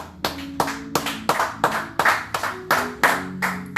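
A church congregation claps together in acclamation during a French-language worship service, with loud, steady rhythmic hand claps landing roughly every third of a second, alongside organ or keyboard tones and no voices.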